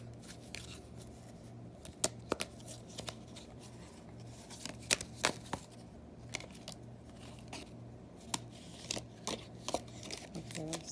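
Tarot cards shuffled by hand, with soft, irregular riffling and sharp slaps running steadily for about eleven seconds, close up and fairly quiet.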